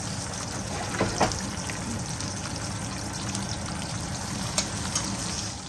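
Chicken thighs fry in hot oil in a pan, giving a steady, loud, continuous sizzle with a few brief pops, and nobody speaks over it.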